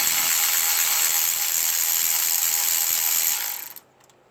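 A ratchet wrench loosens bolts during a water pump replacement on a 2006 Dodge Ram 5.7L, giving a close, continuous, rapid clicking rasp that stops abruptly after about three and a half seconds.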